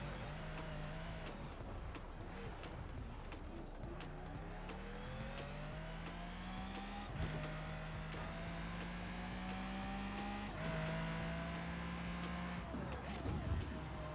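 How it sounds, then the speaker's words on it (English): A car is driven in the Forza Horizon video game, with an engine whining up through the gears in repeated rising sweeps, tire squeals and road noise running loud and continuous. "let's get into some Forza Horizon and try this out. All right, so we have the game all loaded up now, and let's take this car for a spin"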